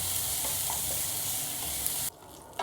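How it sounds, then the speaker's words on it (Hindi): Garlic paste frying in a pan of oil and butter gives a steady, close sizzle with faint stirring, cutting off sharply near the end. "1 चम्मच बटर डाल दूँगी। लहसुन का पेस्ट डाल दूँगी, लाइट सा गोल्डन करूँगी इसे।"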